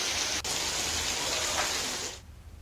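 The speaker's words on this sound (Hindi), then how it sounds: "लेकिन एक बार फिर से बारिश का दौर शुरू हो चुका है।" Steady, dense rain pours down in Chhattisgarh, a loud, even hiss of falling water that holds for about two seconds and then drops away to a fainter patter, with no voices.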